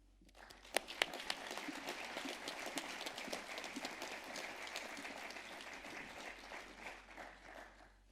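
A commencement audience applauds to welcome a student veteran speaker, a sustained wash of many hands clapping in a large hall, starting with a few sharp claps, holding steady and tapering slightly at the end.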